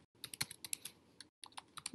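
Quick typing on a computer keyboard, close and fairly quiet, with bursts of rapid key clicks broken by a brief pause before the tapping resumes.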